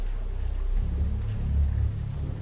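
Rain falls in the VR horror game Don't Knock Twice, a steady soft wash of rainfall with a low, rumbling undertone, continuous and without speech.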